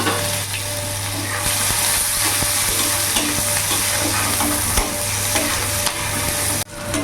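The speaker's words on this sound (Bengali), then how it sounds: "পেঁয়াজটা একটু ভাজা ভাজা করে নেব" Chopped onion fries in oil over toasted cumin seeds, giving a constant close hiss and crackle with light stirring taps, a faint steady hum beneath and a short drop near the end.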